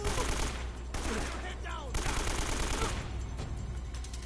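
AK rifle gunfire in Uncharted: Drake's Fortune, loud rapid bursts separated by brief pauses, with ricochet-like whines mixed in.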